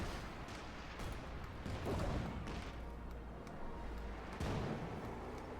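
Gunfire in the real-time strategy game Company of Heroes 2, a series of dull, muffled shots and bursts spread across the battle, fairly quiet and distant.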